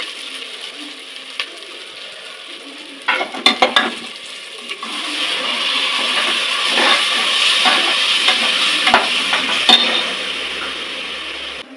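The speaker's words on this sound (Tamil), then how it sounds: "இஞ்சி பூண்டு விழுது நல்லா கொதிச்சிருச்சு" Ginger garlic paste sizzles and bubbles in a hot pan with fried onions while being cooked for tomato rice, a steady loud frying hiss with a few scraping stirs near the start.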